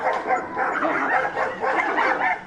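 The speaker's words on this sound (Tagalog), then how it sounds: "narinig niyang umiyak ang aso" A dog whimpers and yips in repeated high, whiny bursts, fairly close and steady, with no talking.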